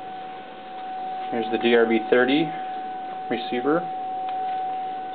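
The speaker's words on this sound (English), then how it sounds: "there's Dream, as you can hear the tone in the background" A steady, faint 750 Hz test tone, picked up by a DRB-30 receiver and fed into Dream software, hums continuously in the background while someone talks over it.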